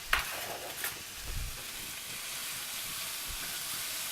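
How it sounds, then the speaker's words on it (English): Garlic frying in a pan for chicken Lyonnaise, a steady close sizzle and hiss that runs throughout, with a couple of brief stir scrapes and knocks near the start. "We're going to throw in about a teaspoon of garlic."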